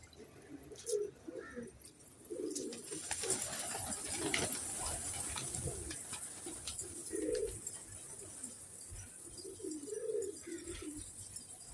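Pigeons coo in soft, repeated low throaty bursts, close by, interspersed with rustling, wing flutters and scattered clicks.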